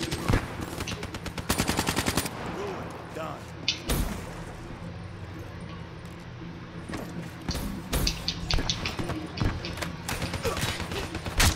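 Gunfire from the Black Ops 3 Shadows of Evil zombies mode, with bursts of rapid shots and single loud cracks scattered through the stretch, mixed with game effects and a player talking over it.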